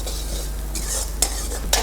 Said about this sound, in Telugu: ఆనియన్స్ మంచిగా ఫ్రై చేసుకుంటేనే ఆ కర్రీ బాగా టేస్టీగా ఉంటుంది కదండి?